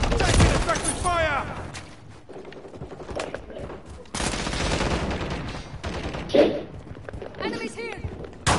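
Gunfire in Call of Duty MW3 on PS4 crackles in rapid automatic bursts and sharp single shots, loud and close, with a player's voice shouting over the fighting.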